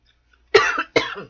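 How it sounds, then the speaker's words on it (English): Two sharp, close coughs in quick succession, loud and clear with nothing else around them. "As soon as I turned this deck, I started coughing."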